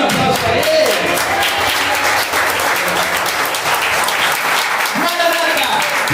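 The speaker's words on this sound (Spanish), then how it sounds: "Den un aplauso a él." Congregation applause at a church sermon, dense broadband clapping filling the room steadily, with voices calling out over it and a brief shout near the end.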